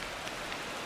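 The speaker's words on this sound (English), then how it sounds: "This rain is not letting up" Rain falling on a baseball field in MLB The Show 25, a steady dense hiss over a very short moment with no voices.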